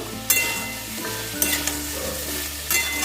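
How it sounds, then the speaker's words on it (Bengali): Flattened rice pulao with vegetables being stirred in a covered pan over a lowered gas flame, a few short scraping strokes against a steady low sizzle. "আমি মাঝে মাঝে ঢাকাটা খুলে একটুখানি করে নেড়ে দেবো"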